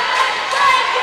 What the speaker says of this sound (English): this Wildwood crowd is getting hyped for the end of this game